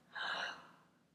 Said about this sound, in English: This is how you yawn.